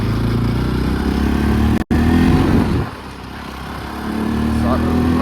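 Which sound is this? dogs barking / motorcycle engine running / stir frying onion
motorcycle engine running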